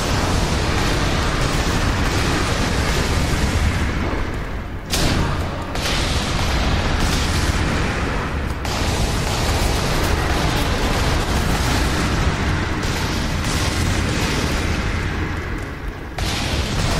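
Continuous loud roar of explosions and booms from shooting explosives in the shooter game F.E.A.R. 3, dense and sustained with a few distinct heavier blasts breaking through the wall of noise.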